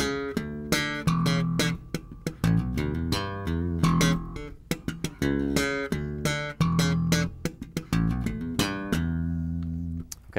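A slapped and popped bass guitar lick: thumb-slapped low notes and snapping pops in a quick, syncopated funk rhythm, played solo and close with no talking.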